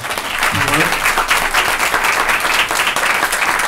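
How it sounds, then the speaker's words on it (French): A conference audience gives the panel speakers a hearty round of applause, steady dense clapping throughout with a brief voice briefly audible over it. "Je voudrais remercier les intervenants pour un tonnerre d'applaudissements, s'il vous plaît, pour eux."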